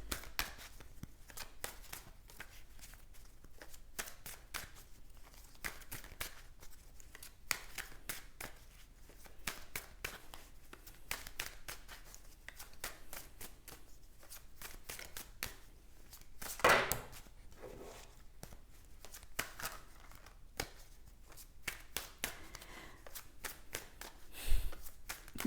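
Tarot cards are shuffled by hand over and over in a quiet room. The soft, rapid riffles and taps repeat throughout, with an occasional sharper snap when a card drops.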